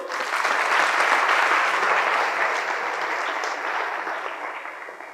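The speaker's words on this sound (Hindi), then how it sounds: "अगर अच्छी बात लगी तो ताली बजा दो।" A crowd at a motivational career talk bursts into applause, a loud, dense clapping that peaks early and then gradually tapers off over several seconds.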